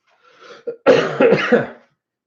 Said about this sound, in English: you notice that I'm coughing a lot